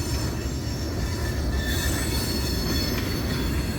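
Eastbound double-stack freight train rolling past at Santa Fe Junction, a loud, steady rumble of wheels on rail with high metallic squealing throughout, close and continuous.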